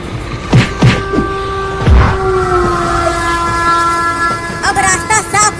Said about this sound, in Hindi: तब तो इसे ट्रेन से उड़ाना ही होगा।